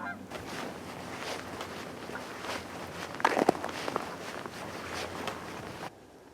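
Geese honk repeatedly in the distance across a snowy winter bay over wind, with a brief burst of louder, closer honks midway before the sound cuts off.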